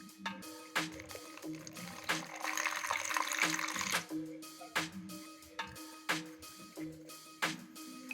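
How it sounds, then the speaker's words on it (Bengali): Water is mixed into a flour and cornflour batter with a little salt for vegetable chop, making close wet clicks and tapping from the utensil against the bowl, with a short sloshing pour in the middle. "অল্প একটু লবণ দিয়ে দেবো জল দিয়ে গুলে নেবো"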